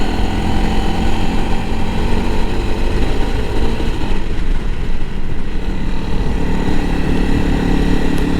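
A 2021 Honda CRF 300L Rally motorcycle rides over a washboard gravel road, its engine droning steadily with continuous rumbling chatter from the corrugated surface, close and loud.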